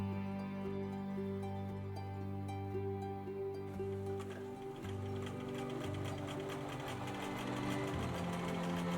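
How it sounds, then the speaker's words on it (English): A sewing machine runs steadily, straight-stitching an elastic waistband with a constant motor hum and fast rhythmic clatter of the needle mechanism, close and unbroken. "Sew with a straight stitch along the top, stretching the elastic as evenly as you can."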